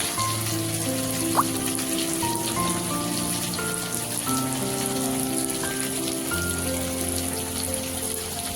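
Whole cumin seeds with cumin paste and chili paste sizzle in hot oil as the tempering for a rohu fish and eggplant curry, a steady crackling fry with scattered pops throughout.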